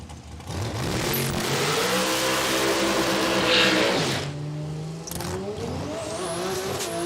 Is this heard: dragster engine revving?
yes